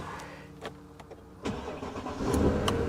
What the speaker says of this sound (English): Fired right up.